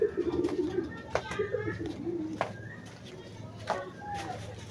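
Pigeons at a home coo in low, throaty bursts near the microphone, repeating several times over faint background voices and household ambience.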